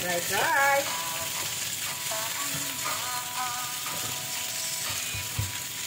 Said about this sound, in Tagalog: malalakang hiwa ng sibuyas at ng ating bawang. Okay? Sabay natin yung fry.